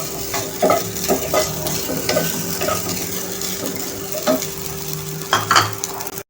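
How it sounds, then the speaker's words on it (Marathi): Sago pearls roast in ghee in a pan, sizzling steadily while a spoon stirs and scrapes in repeated clinks and scrapes close by. "साबुदाणे टाकून परतून घेणार आहे 2 मिनिटं तुपामध्ये"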